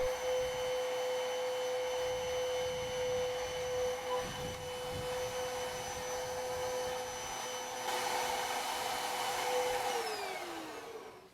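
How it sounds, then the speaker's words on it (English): A vacuum cleaner removes dust from the surface of a vintage Dayton table during restoration. Its steady, fairly quiet motor whine holds throughout, and the pitch shifts briefly near the end. "I like to vacuum for the larger bits."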